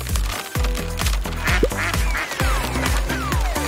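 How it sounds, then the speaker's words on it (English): Cartoon electric ducks quack and honk in a rapid, bouncy series, with many repeated calls over a playful backing of music and sound effects. "They're cute little electric ducks."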